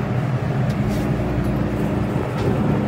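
A moving train heard from inside a crowded carriage, a steady low rumble with faint rattles and brief squeaks, continuous throughout.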